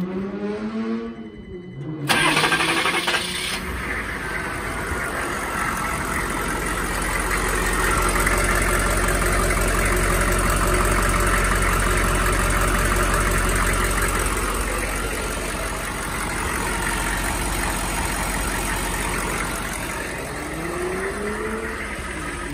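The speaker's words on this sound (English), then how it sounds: "When I start the vehicle," A car engine cranks and catches near a BatteryMinder OBD12 desulfator and maintainer, then settles into a loud, steady idle that hums on for some twenty seconds, with a faint high whine running above it.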